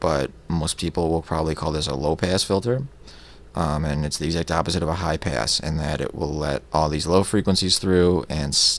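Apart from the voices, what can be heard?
None of the usual background noises is heard.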